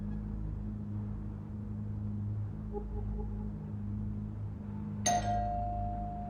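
A two-tone doorbell chime sounds once at a front door around the five-second mark, bright and fairly close, over a steady low hum of background noise.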